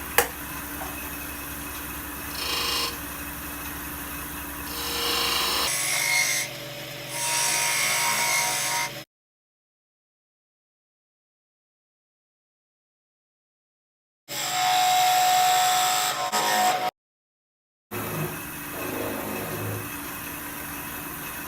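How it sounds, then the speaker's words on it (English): A skew chisel cutting wood on a spinning lathe while turning a scorched ring holder, a steady scraping, rasping cut over the motor's hum, broken by sudden cuts to silence and resuming. "I'm going to switch to the skew chisel while I still have a good amount of support behind the ring holder"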